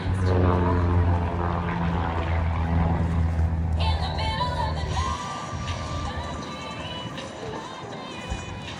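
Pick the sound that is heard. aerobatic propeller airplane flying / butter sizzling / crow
aerobatic propeller airplane flying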